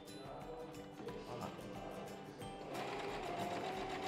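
Sewing machine stitching the side seam of a twill fabric bag, a steady continuous whir running throughout and growing slightly louder near the end, heard alone and close.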